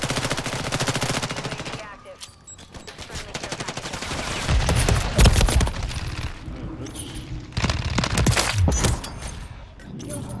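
Extremely rapid bursts from a Fennec 45 submachine gun in Call of Duty MW3, loud buzzing streams of fire broken by short pauses and heavier impact blasts, with a voice talking at times.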